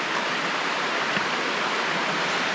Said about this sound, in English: It's so calming and relaxing to fall asleep right next to a creek or any body of water for that matter.